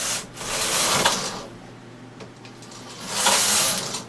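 A Studio electronic knitting machine's carriage is pushed across a row of knitting, giving two loud, broad rasping sweeps separated by a quieter sliding stretch, close and without talk.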